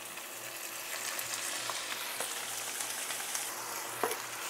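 Ground beef sautés in a pan with cooked onions, a faint, steady crackling sizzle throughout with occasional small pops, no voices.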